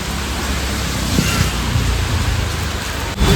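Steady heavy rain pours down during a storm in Patan, Gujarat, a dense continuous hiss filling the scene, loud and close, with no voices.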